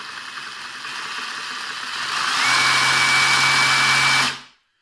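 A Parkside PSSAP 20-LI B2 cordless reciprocating saw motor whines steadily, then climbs to a higher, louder pitch as the trigger is pressed further, running alone at close range before cutting off abruptly.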